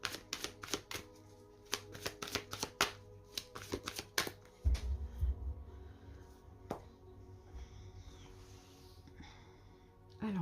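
An oracle card deck being shuffled by hand, a rapid flurry of crisp riffling snaps and taps up close, then softer handling of the cards, with no talk.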